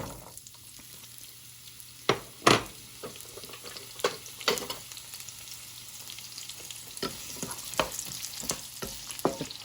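Onion fries in hot oil with sesame oil in a pan for fried rice, heard close up as a low steady sizzle broken by sharp scraping stir clatters, with no talk.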